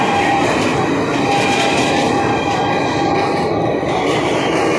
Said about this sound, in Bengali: এই ট্রেন এসে গেছে